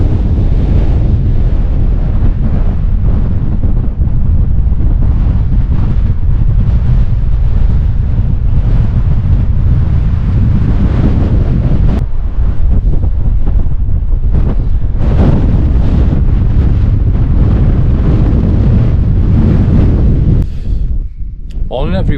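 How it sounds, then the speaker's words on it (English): Strong wind buffets a solo camp at Coniston in the Lake District, roaring as a loud, continuous rumble close to the microphone, with gusts swelling and dropping throughout before easing near the end. "it's cold and it's windy"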